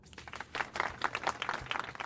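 A short burst of applause, a quick run of light claps at moderate volume with fairly close, uneven rhythm.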